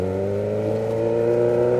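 A vehicle fitted with a makeshift pipe on its exhaust drones loudly and steadily, a sustained, tonal engine note with no talking.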